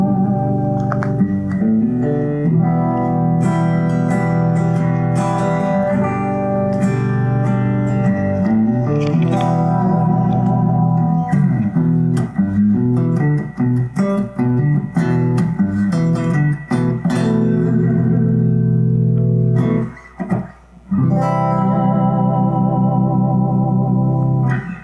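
Clean electric guitar through a Dyna compressor pedal playing sustained chords and single notes with an even, squeezed evenness to the attack, fairly loud, briefly cutting out near the end.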